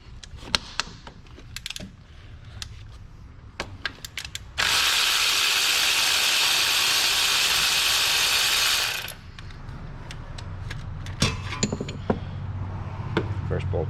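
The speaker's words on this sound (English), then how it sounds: "First bolt out." Ratchet loosening an alternator bolt on a Dodge Dakota: close, quick metallic clicking in short bursts, then a loud steady whir for about four seconds before the irregular clicks resume, with no talking.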